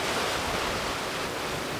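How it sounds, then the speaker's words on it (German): Sea waves heard from aboard a ship in the sun, a steady, broad wash of surf mixed with wind rush, continuous and fairly loud with no voices. "jetzt in der Sonne irgendwie auf dem Meer zu sein, die Wellen zu hören"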